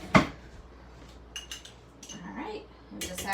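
A spoon being grabbed, with cutlery and dishes clinking: one sharp clink at the start, then scattered lighter clinks and rattles, with someone talking faintly in between.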